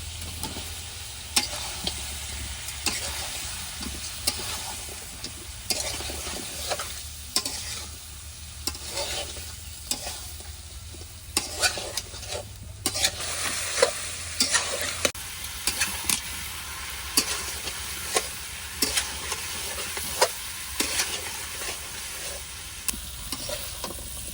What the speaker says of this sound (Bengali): মাংসটা সুন্দরভাবে কষিয়ে নিয়েছি